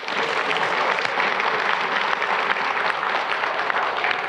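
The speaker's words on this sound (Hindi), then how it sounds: "स्पेशल एपिसोड के लिए एक बार सब जने तालियां बजाएं" An audience claps for a special episode of a talk program, a steady, even wash of many hands at moderate level that holds without break throughout.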